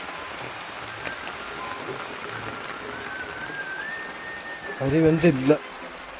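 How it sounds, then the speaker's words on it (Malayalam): Steady rain falls outdoors around a home, a soft continuous patter with a faint insect-like hum, and a person's voice briefly speaks near the end. "ഇതിപ്പോൾ മഴ."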